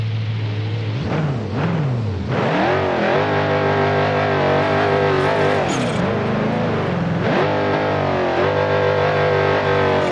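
A Dodge Charger EV fitted with a 1000 hp Hellephant engine in BeamNG.drive multiplayer roars loudly and continuously, revving up and down with rising and falling pitch throughout, close and distorted, with no talk.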